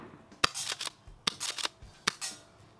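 A Tokyo Marui M870 airsoft shotgun fires three sharp gas-powered shots on its own gas tank, each crack followed by a quick mechanical clatter of pumping, evenly spaced and close.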